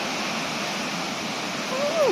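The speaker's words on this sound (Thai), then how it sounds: "ยังไงก็มาท่องเที่ยวนะครับน้ำตกแม่พูนจังหวัดกระบี่ครับ" Mae Phun waterfall in Thailand after rain, a steady broadband rush of falling water close by, with a short voiced sound rising at the end.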